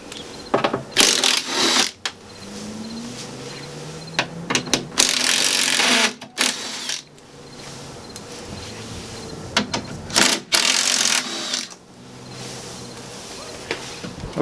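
Tools loosen screws and bolts on a Nissan 350Z Roadster window regulator, giving repeated bursts of buzzing power-driver whir and ratcheting clicks separated by short pauses.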